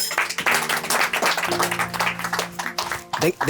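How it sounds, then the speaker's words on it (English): An audience at a graduation ceremony applauds the coach, with dense, sustained clapping that swells and fades, joined by a faint tonal sound in the background. "You can clap for the coach."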